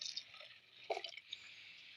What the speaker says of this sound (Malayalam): അരപ്പിൻ്റെ കുറച്ച് വെള്ളം കൂടി ഒഴിച്ചു കൊടുക്കാം